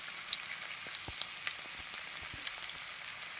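Chopped ginger frying in a pan for vegetable kurma, a faint, steady sizzle with scattered light crackles and pops and no voices.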